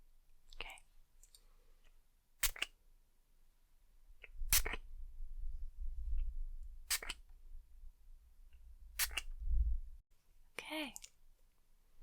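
A spray bottle mists a face before makeup with several short, soft spritzes spaced a couple of seconds apart in a hushed room, with a quiet voice murmuring near the end.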